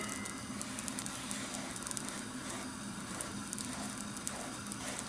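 Tapioca crepe batter cooking in a frying pan, a soft steady sizzle with faint crackles, quiet and continuous with no voices.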